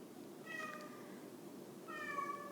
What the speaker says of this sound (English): He's meowing a lot.